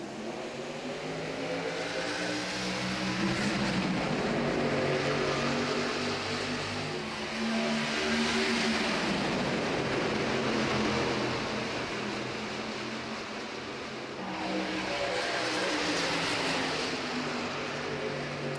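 Race trucks at Kentucky Speedway in a racing video game drone past in a dense pack, engine roar swelling and fading in long waves, steady and moderately loud with no talk.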